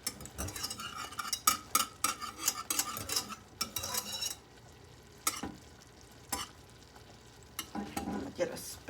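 German chocolate cake icing bubbles and simmers in a pot on the stovetop as a spoon scrapes and stirs through it in quick clustered strokes, then pauses to a faint hiss before stirring briefly resumes.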